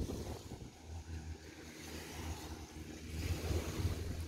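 Waves on Ton Sai Beach, Phi Phi Island, Thailand, a faint, soft, steady wash of surf with low rumbling swells and light wind noise, no voices.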